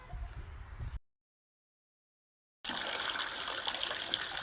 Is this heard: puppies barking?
no